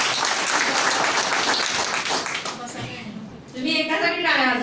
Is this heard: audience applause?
yes